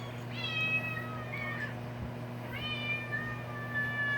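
Two gray female kittens meow in a few high, drawn-out cries, close and fairly clear over a steady low electrical hum, with no talking.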